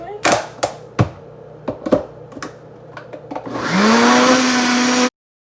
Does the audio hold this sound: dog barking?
no